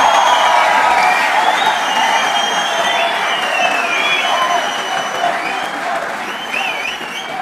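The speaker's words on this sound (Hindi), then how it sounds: "तालियां इस बात पर बजने वाली है" A large audience at Modi's speech in Europe claps loudly and continuously, with cheers and whoops rising over the dense applause before it slowly thins.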